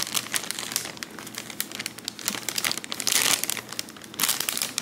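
Plastic packaging crinkles and rustles continuously up close as items are shuffled through, with a few louder crackling bursts.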